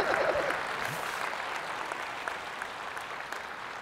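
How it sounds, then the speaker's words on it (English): Keynote audience at a tech conference applauding, a dense steady wash of many hands clapping that starts loud and slowly fades across the few seconds, with no speech over it. "Hell yeah, you can clap."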